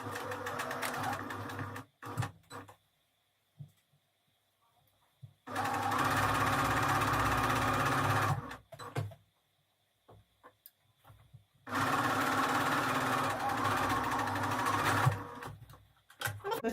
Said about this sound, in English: Before I stitch along the two sides here, I'm going to stitch the other end.